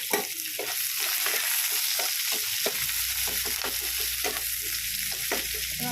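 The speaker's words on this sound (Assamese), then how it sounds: "পিঁয়াজখন ভজা হৈ গ'ল" Sliced onions, three large ones, frying in a pan for a duck curry with pumpkin, a steady close sizzle with occasional stirring scrapes throughout.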